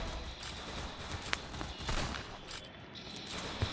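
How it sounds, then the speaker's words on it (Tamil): Gunfire and blasts in a shooting video game, a steady dense crackle of shots with a couple of sharper bangs standing out near the start and end, heard at moderate loudness with no talk. "வெடி போடுறாங்க கைஸ்."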